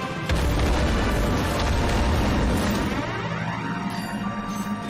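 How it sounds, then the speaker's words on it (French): An explosion in the video game Ratchet & Clank: a sudden loud, dense boom with a rumbling low-end blast that sustains for several seconds, alone with no talk. "Ratchet, nom d'un Sony, qu'est-ce qui vient d'exploser?"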